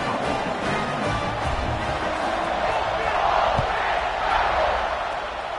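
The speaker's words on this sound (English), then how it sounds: "this crowd now ready to get behind them" A football stadium crowd roars in a dense, sustained wash before kickoff, swelling slightly midway, with a commentator talking over the noise.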